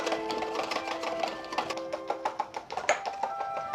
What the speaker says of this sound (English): So I'm going to whisk this until I start to see it thicken.